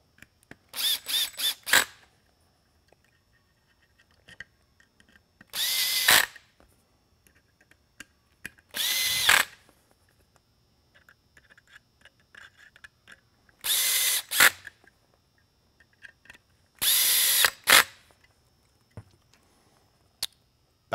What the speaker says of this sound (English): I'll go ahead, tighten the screws back in